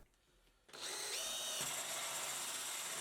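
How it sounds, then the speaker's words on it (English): Near silence, then a diamond drill bit whirs up sharply and grinds through tile around a copper pipe, a high, even abrasive whine continuing to the end. "here I'm using a diamond drill bit to cut a hole around my copper pipe"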